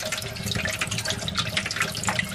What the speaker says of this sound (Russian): И заливаем холодной водой для того, чтобы они у нас остыли